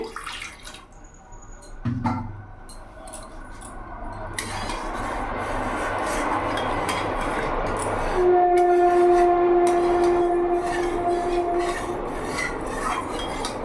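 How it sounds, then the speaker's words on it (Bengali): Train rumbling past close by in a home kitchen setting, a steady loud roar with grinding wheel noise that builds after a soft start, with a sustained horn-like whistle tone joining midway and continuing for several seconds, no talking. "ট্রেনের আওয়াজটা পুরো শোনা যাচ্ছে।"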